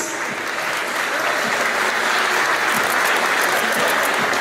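An audience at a diploma ceremony for academy members breaks into sustained applause, dense and steady clapping from a sizeable crowd filling the room without pause.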